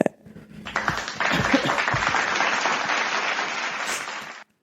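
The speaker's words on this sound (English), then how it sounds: "let me give myself a clap for that." A woman applauds herself, a sustained burst of clapping lasting about four seconds at close range, fairly dense and even, ending abruptly.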